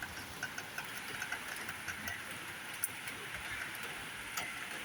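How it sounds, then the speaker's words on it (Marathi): Soft steady rain falling, a continuous hiss with scattered light drips and ticks, no voices. "असा पाऊस काळवंडून पडायला चालू झालेला आहे."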